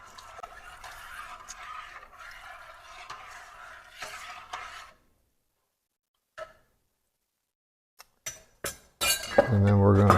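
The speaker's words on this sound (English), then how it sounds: "I'm going to just take and stir this just a little bit" A spoon stirs warm milk in a pot for homemade yogurt, scraping and clinking lightly under a person talking, then a quiet pause before a few sharper clinks and clatter near the end.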